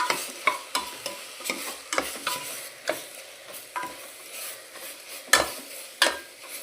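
Chopped cauliflower being stirred in a frying pan with a spoon, a series of close scraping strokes at an irregular rhythm over a faint sizzle, with occasional metallic clinks.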